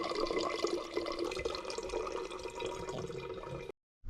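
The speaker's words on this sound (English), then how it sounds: "I'm gonna fill this with some cold water up to maybe right around here on the cold brew filter." Cold filtered water pours steadily into a cold brew filter, a continuous splashing trickle at close range that stops abruptly at the end.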